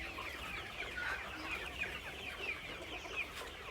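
Thirty-eight-day-old Sonali chickens on a poultry farm cluck and chirp repeatedly in a soft, continuous chatter from many birds, with short calls rising over a steady background hum.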